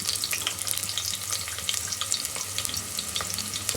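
Half a cut onion frying in a tablespoon or two of oil for Hassan-style chicken sambar, a steady close crackling sizzle with dense fizzing throughout and no talk.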